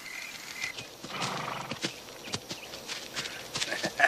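A horse nearby, its hooves clip-clopping unevenly on hard ground with a brief whinny, quiet shuffling between steps.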